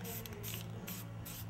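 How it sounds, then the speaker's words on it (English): Several short hissing bursts of black spray paint from an aerosol can, each lasting a fraction of a second, close by over a low steady hum. "Now I'm going to take the black and spray that black here"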